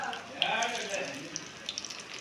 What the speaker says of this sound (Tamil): சில்லி பிரட்டி எடுத்து நல்லா ரெட் கலரில் ப்ரௌன் கலரில் வர அளவுக்கு நல்லா முருகலாக வறுத்தெடுக்கணும்